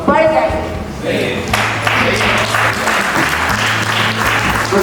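Audience applause fills the room, dense continuous clapping at steady loudness throughout, with a low sustained tonal hum underneath and no speech over it.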